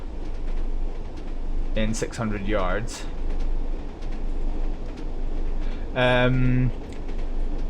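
A Class 101 diesel multiple unit rumbling along in a train simulator game while braking for a speed reduction, a steady low drone throughout, with someone talking over it and a short automated announcement.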